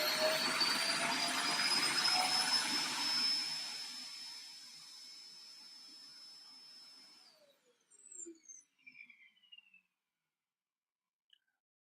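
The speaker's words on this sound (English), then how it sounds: "I so hate that robot vacuum cleaner that my wife got." A household robot vacuum cleaner whines loudly with a steady broadband roar for about seven seconds, then winds down, leaving a few faint chirps and beeps before silence.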